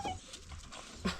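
A dog whimpering in a village, two short high whines close by, the second slightly louder, with faint background noise and no speech.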